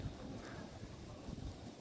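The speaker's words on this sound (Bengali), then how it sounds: "এখান থেকেও খুব হাওয়া আসছে।" Wind blows steadily across an open outdoor spot near a home, a dense low rumble buffeting the microphone for the whole moment, with no voices.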